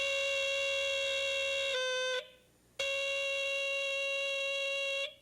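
A loud, harsh electronic alarm tone blares continuously, cuts out briefly for about half a second, then resumes just as loud.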